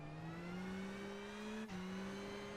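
A rally car at the Acropolis Rally in Greece sweeps past at speed, a steady high engine note sliding downward with a brief dip as it goes by, heard alone without voices.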